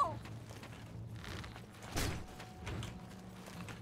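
A door creaks open in the fantasy role-playing game Morroblivion: a quiet mechanical creak with a brief rattle of the latch and a soft thump, heard close.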